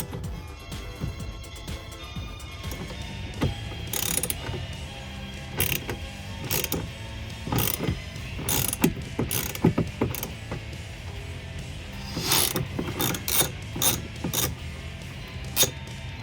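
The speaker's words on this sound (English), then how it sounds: "I'm going to loosen this bolt down here." A bolt being loosened on a 2014-2018 Chevrolet Silverado powered heated folding towing mirror, with repeated metallic ratcheting clicks and clanks in irregular bursts, close and without talk.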